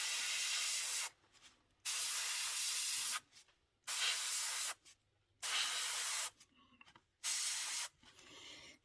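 Paint spray hisses in short bursts over a 1/48 scale model aircraft, about five or six of them, each lasting roughly a second with brief quiet pauses between.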